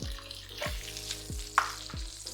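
Half an onion sautés in a hot pan with a soft frying sizzle, while a few low, swooping tonal sounds recur in the background and a brief sharp click cuts in midway.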